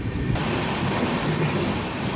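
Goods train passing through Hafizpet railway station, a continuous rumbling and rattling of freight wagons close by, steady and loud with no speech.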